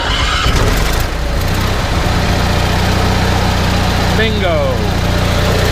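A generator engine cranks and catches, then settles into a steady loud idle that runs throughout, with a person exclaiming briefly over the running engine.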